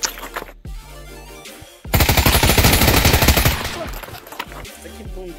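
Rapid automatic rifle fire from a communist-made weapon in the VR shooter Pavlov, one loud sustained burst of closely spaced shots after scattered quieter game sounds, trailing off into ambient noise.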